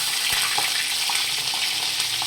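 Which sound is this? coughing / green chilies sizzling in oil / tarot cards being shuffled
green chilies sizzling in oil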